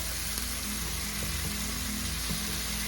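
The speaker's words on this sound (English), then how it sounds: "we're still in the sauté process here, waiting for our veggies to soften up" Vegetables sautéing in a hot pan for squid adobo: a steady, close sizzle and crackle of frying, continuous and even, with no talking.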